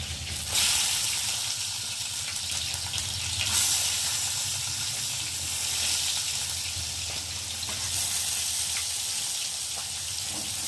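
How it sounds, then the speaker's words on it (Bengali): Eggplant pieces fry in hot oil in a home kitchen, a steady broadband sizzle running throughout with brief louder surges as pieces go in, close and continuous with no talking. "আমি এখন একে একে বেগুনগুলো দিয়ে ভেজে নেব"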